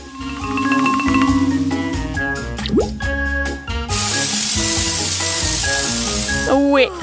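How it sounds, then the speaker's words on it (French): A Coca-Cola can pops open and a loud fizzing hiss follows, continuous and close, over background music. "Avec peur et inquiétude, Ted ouvre une canette de coca."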